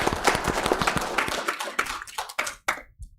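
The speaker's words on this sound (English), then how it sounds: "Please, another round of applause." Scattered audience clapping at a Pickens County, South Carolina public gathering, brisk at first and then thinning into a few last isolated claps before fading out.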